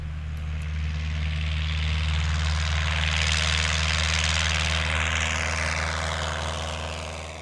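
A very light 65-horsepower propeller airplane drones close by during off-airport operations on a gravel bar by a river. The engine holds a steady, loud hum that swells and then fades slightly as it passes. No voices.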